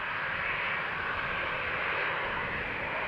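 An Embraer 190 jet airliner departs from runway 36L at Amsterdam Schiphol, bound for Bologna, a steady loud broadband engine roar throughout with no voices.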